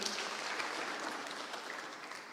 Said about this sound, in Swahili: Asante, tuwapigie makofi.